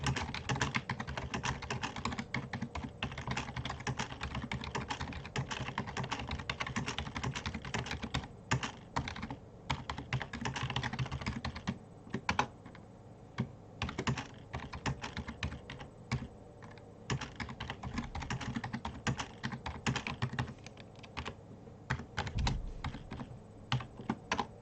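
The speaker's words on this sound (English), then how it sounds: "wait, let me type this." Fast, continuous typing on a computer keyboard, with dense clacking keystrokes throughout and a few brief pauses, close and fairly quiet.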